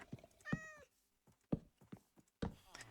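A Minecraft cat gives one short meow inside a villager hotel, quiet and close, followed by soft in-game thumps and knocks.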